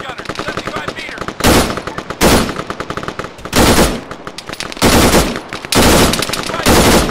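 Machine guns fire in Arma 3 combat, long loud bursts of rapid automatic fire repeating close by, separated by brief gaps filled with heavy single shots and rattling.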